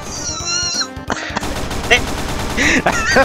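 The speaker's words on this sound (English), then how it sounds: "But I want to shoot zombies." Rapid gunfire in a Roblox zombie-shooting game, with loud bursts of shots over game music and sound effects, mixed with wavering electronic tones and a voice underneath.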